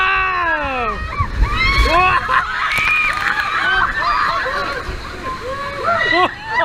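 Water sloshes and splashes heavily against a raft on the Kali River Rapids ride at Disney World while several people shriek and shout excitedly over the rushing churn.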